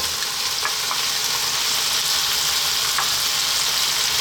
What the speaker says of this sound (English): now we can start by dropping in our onion